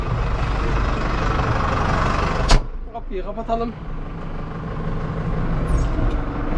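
A tractor engine runs loud and steady, then a door slams shut and the engine drones on more muffled as someone speaks briefly.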